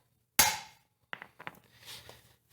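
A hammer strikes a tool to release a valve keeper on a Kawasaki engine: one sharp metallic crack, then a brief cluster of lighter taps and clinks, close by in an otherwise quiet space.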